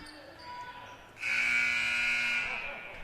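A loud electronic buzzer sounds at the end of a quarter in a girls' varsity high school basketball game, one sustained blast of about a second and a half over gym crowd noise.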